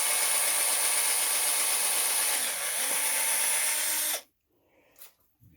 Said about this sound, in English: And then I go up to the next size drill, which is the final one.